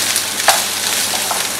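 Chopped onion hits smoking-hot oil in a pan for a vegan paella, giving a loud, steady sizzle with a few sharper crackles and spits.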